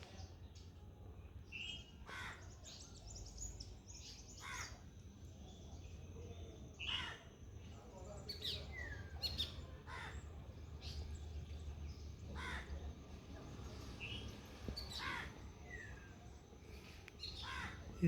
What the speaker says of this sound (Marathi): निसर्गराजीने भरलेला कोकण विविध पक्षी आवाजामध्ये आपल्याला साथ घालतो.